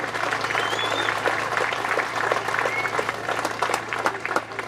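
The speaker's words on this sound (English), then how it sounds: "Let's give the players a massive round of applause, please" A crowd gives a sustained round of applause for youth football players at an outdoor prize-giving, steady clapping from many hands with faint background voices mixed in.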